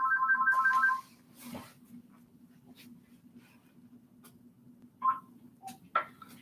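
A mobile phone ringtone rings for about a second as a quick trilling burst of repeated tones, then cuts off, leaving a low hum with a few faint clicks and short tones afterward.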